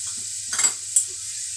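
Carrot and curry leaves frying in oil with spices, a soft steady sizzle with a couple of stirring scrapes of a utensil against the pan.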